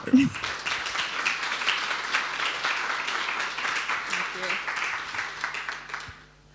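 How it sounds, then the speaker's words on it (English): Steady applause from a demo-night audience after a health tech pitch, fairly loud and continuous before fading out near the end. "Thank you, and applause."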